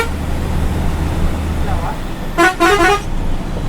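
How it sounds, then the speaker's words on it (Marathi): A white non-AC SR Travels bus running from Madgaon to Bijapur, Karnataka, with a changed custom horn, honks in a quick series of short melodic blasts over steady road noise. "DK भाऊनी हॉर्न चेंज केलेला आहे"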